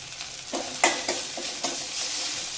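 Tomatoes sauté in a pan with a steady sizzle, punctuated by several distinct scraping strokes of a spoon stirring them, close and clear with no talking.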